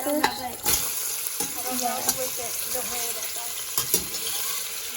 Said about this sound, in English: the onions are sizzling